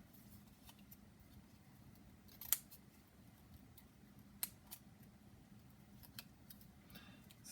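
Scissors cut patterned paper for a handmade poinsettia card, a few quiet snips spaced irregularly over several seconds with soft paper rustling between them, close but faint.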